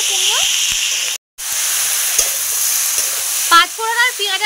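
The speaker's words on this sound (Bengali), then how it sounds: "5 ফোড়ন আর পেঁয়াজের সঙ্গে সবজিগুলোকে ভালো করে কষিয়ে নিতে হবে।" Potato, pumpkin and Malabar spinach fry with onion and panch phoron in a loud, close, continuous sizzle, with a brief cut in the sound and light stirring scrapes near the end.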